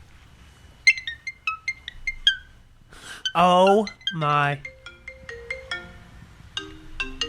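A parrot sings an iPhone ringtone melody in a run of clear, bright whistled tones imitating the phone, with people talking and exclaiming over it in the middle.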